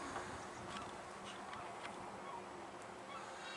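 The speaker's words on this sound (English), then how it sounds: "You see the bee?" A bee buzzes near pollen-laden flowers outdoors in Sechelt, British Columbia, a faint, steady low drone with a few soft passes against quiet background noise.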